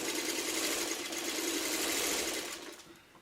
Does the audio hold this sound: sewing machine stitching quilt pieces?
yes